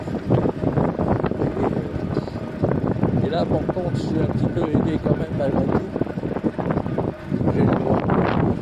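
Wind gusts across the microphone while riding a Cyrusher Grace e-bike at around 25 km/h with a tailwind, a steady loud rushing buffet beneath someone talking throughout.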